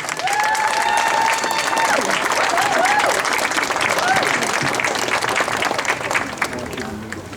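An audience at a street renaming ceremony in San Francisco applauds to welcome Daniel Dae Kim, a dense, steady wash of clapping and crowd noise that stays loud throughout, with cheering voices rising over it.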